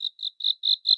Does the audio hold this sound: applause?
no